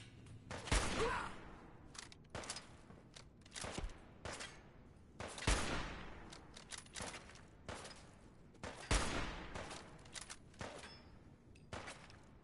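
Gunfire in Fallout 4 during a raider battle: scattered sharp shots and short bursts in an irregular rhythm at moderate distance, some louder cracks standing out among quieter pops.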